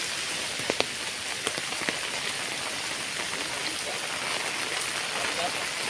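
Heavy rain pours over a remote rural village in Java during the rainy season, making a steady, dense hiss with a few sharper drips and taps near the start.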